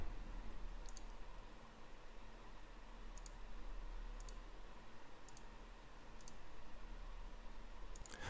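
A computer mouse clicks on a stock trading platform: sharp, faint clicks, some single and some in quick pairs, come at irregular intervals over a steady low hiss, with no voices.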